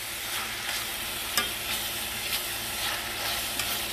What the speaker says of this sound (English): I'm trying to stir this up in there.